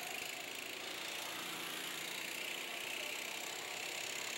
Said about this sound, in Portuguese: Aí acelerando, botando potência no motor